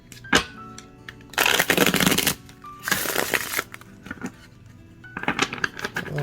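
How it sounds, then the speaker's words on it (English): A deck of thin tarot cards is shuffled in three quick riffling bursts, crisp and close, separated by brief pauses with light handling sounds. "I'm going to show you how they shuffle."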